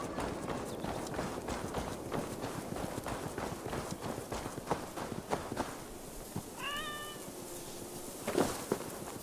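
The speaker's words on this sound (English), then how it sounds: "I never thought the meow of cats could soothe my soul." Cats meow in Assassin's Creed Valhalla, a couple of drawn-out mews rising over a busy game soundscape of rhythmic footsteps and hoof-like clatter.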